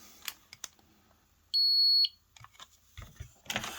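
A homemade signal detector sounds its alarm buzzer once: a steady electronic tone lasting about half a second, loud and clear against quiet workshop clicks and handling noises.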